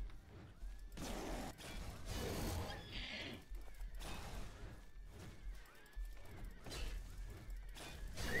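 Unicorn in Elder Scrolls Oblivion neighs repeatedly, loud whinnies recurring every second or two over busy game noise, with no talk.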